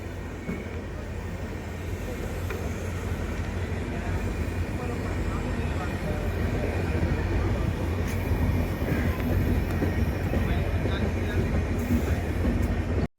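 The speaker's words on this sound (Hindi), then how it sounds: "दोस्तों इधर हमारी ट्रेन भी आ गई है जिससे हमें घर जाना है वापसी" A passenger express train arrives at a busy Indian railway station with a loud, steady rumble and rolling clatter of wheels that builds over several seconds, along with faint station background noise.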